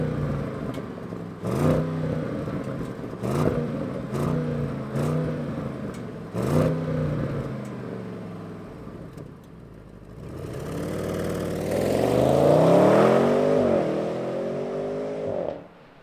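A 2023 Audi S8 engine turns over and fires, blipping through several short sharp revs, then builds into a long rising rev before easing back, close and loud, with no talking.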